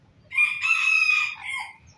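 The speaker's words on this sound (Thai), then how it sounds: "ไก่แจ้สีโกโก้ครับที่ได้นำเขามา" A cocoa-colored bantam rooster crows once, loud and close, a single drawn-out call of about one and a half seconds with a rising start and a falling tail, with no talk.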